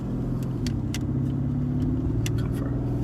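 A Mercedes-AMG GLE63s engine and exhaust drone steadily while driving, a loud continuous low rumble with faint crackles and pops on and off the throttle, no voices present.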